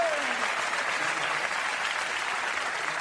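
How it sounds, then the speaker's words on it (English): A studio audience gives a sustained, full round of applause, even and crowded from start to finish, with a faint voice briefly audible at the beginning. "I love he gets a big round of applause."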